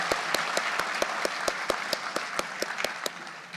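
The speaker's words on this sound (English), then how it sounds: "Another round of applause for our life-saving awards recipients" Applause from an audience at a sheriff's office award ceremony, honoring life-saving award recipients: a steady wash of clapping with distinct sharp individual claps standing out, moderately loud and continuous without talk.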